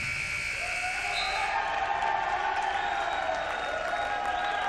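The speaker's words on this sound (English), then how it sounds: "As Quinn Hillman comes in for Jason Becker to a standing ovation from Buena Vista fans." Basketball fans give a standing ovation as a substitute enters a men's college game, with sustained applause and crowd cheering filling the gym alongside a buzzer-like tone and faint voices.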